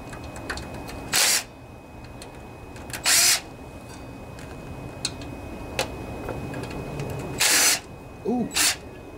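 A 3/8 inch socket wrench loosens a bolt on a Craftsman riding lawnmower with a 24 HP Briggs and Stratton engine. Short, close bursts of ratcheting clicks come at irregular intervals over quiet background noise.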